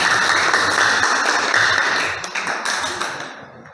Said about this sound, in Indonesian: mari beri tepuk tangan untuk kelompok 2